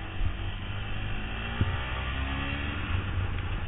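A Yamaha WR125X single-cylinder 125 cc motorcycle accelerating on back roads, a steady droning engine note rising in pitch under continuous wind rush, heard from the rider's position.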